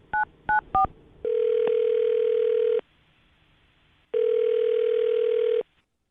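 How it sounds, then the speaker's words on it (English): A telephone dials a number with three quick keypad tones, then a long ringback tone sounds twice with a pause between, clear and alone. "I'm dialing this phone number right now"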